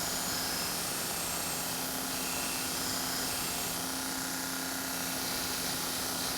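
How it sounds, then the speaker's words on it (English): Continuous steady grinding whine as nail holes are ground on a St. Croix Forge diagonal wedge horseshoe, a constant loud mechanical drone with a faint tonal hum throughout and no talk. "we can correct the position of the nail hole. And the best way to do that is with grinding"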